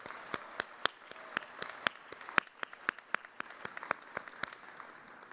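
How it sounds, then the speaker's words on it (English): Sparse clapping at a union convention, a dozen or more distinct, spaced hand claps sounding thin and moderately distant rather than a full ovation. "Give them a round of applause, please."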